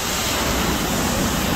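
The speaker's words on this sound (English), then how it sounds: "The sound of the water." Ocean surf at Laguna Beach, California, a steady broad roar of breaking water close by, dense and continuous with some wind on the microphone.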